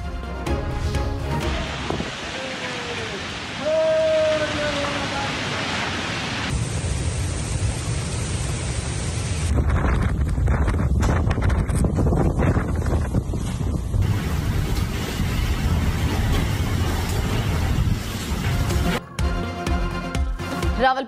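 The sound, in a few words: night storm with strong wind and heavy rain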